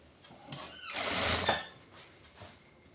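Sewing machine stitching a half-sleeve shirt with three buttons, a brief faint whir rising to a short burst of stitching, then fading.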